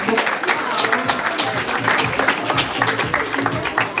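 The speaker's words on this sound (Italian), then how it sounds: "Facciamo un applauso." A crowd at an Olympic-style amateur boxing event in Verona applauds steadily as a boxer is introduced in the blue corner, dense clapping throughout with crowd murmur beneath.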